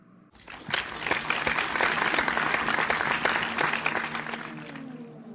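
A crowd of guests, the bride's mother among them, applauds at an outdoor garden wedding ceremony, a steady dense clapping that swells after a brief quiet start and holds for several seconds before easing slightly.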